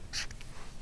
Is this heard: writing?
yes